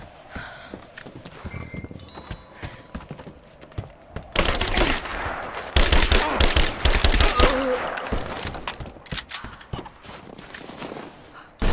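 Video game gunfire from Rise of the Tomb Raider: bursts of rapid shots and a sustained volley in the middle, loud and dense, with clattering footsteps and faint game voices around them.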